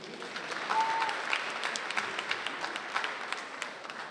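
Steady, dense audience applause at a comedy league show, even and continuous clapping from a large crowd with no voices above it.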